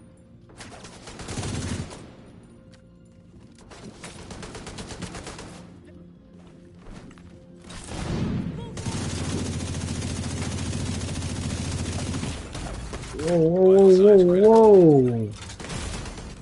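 Bursts of automatic gunfire crackle in a Division 2 firefight, several sustained volleys separated by brief pauses, loud and close, with a wavering electronic tone near the end and a player's brief exclamation.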